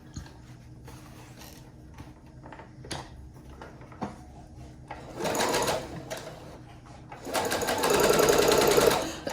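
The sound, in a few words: sewing machine sewing a straight stitch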